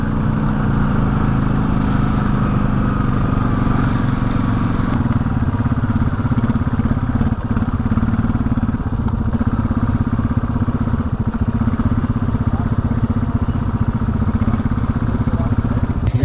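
A Honda Rubicon 500 ATV, hot-wired and with a shifting problem, runs a steady loud engine drone while being ridden, close and continuous, with rattling and clatter throughout.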